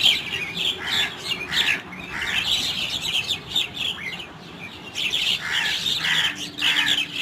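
A flock of mynas chatter and squawk in bursts, busy overlapping calls at moderate distance over steady outdoor background noise.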